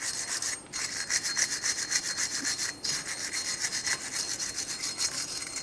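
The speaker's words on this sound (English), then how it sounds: "You can use a wire brush or even some sandpaper." A wire brush scrubbing the brake hub mating surface on a 2011-2020 Toyota Sienna, rapid rhythmic rasping strokes, close and steady with two brief pauses, no voices.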